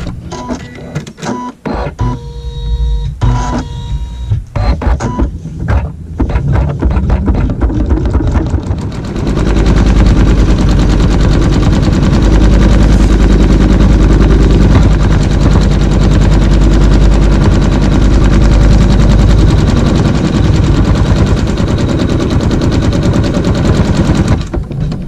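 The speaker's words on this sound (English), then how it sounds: "then we're going to sew a placement stitch so we know where our applique goes" An embroidery machine first taps through a few short bursts of fast needle stitching, then settles into a loud, continuous rapid chatter as it sews an appliqué placement stitch on fabric for a fleur-de-lis quilt block.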